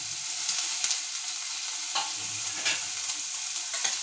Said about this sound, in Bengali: দিয়ে দিচ্ছি আমি কুচিয়ে রাখা টমেটো।